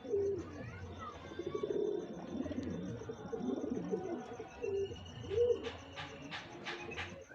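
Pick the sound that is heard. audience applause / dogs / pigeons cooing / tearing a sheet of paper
pigeons cooing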